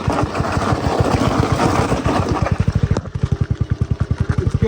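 A 125cc engine fitted in a three-wheeler runs in first gear, a loud rough putter at first, then settling into a fast, evenly pulsing idle-like chug close by.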